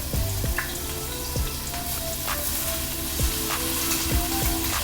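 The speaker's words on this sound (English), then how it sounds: "So we're going to sear that, and you notice I'll leave it down." A sirloin steak sears in a hot pan, giving a steady bright sizzle and crackle with scattered sharp pops, close and continuous without talk.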